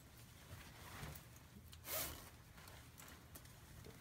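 A zip-up baseball jersey, size 44, gives one brief, faint zipper rasp against quiet fabric-handling noise.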